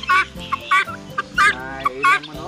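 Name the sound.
turkey gobbling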